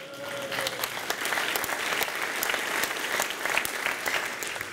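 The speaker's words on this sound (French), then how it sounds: "On peut l'applaudir, s'il vous plaît." A seated audience applauds a speaker with steady, dense clapping from many people, moderately loud and unbroken. A faint high tone briefly rings at the start.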